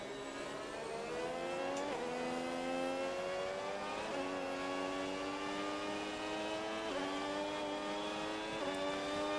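A Formula 1 race car engine in the F1 26 racing game screams at full throttle, its pitch climbing repeatedly and dropping briefly at each gear shift, steady and fairly faint with no talking.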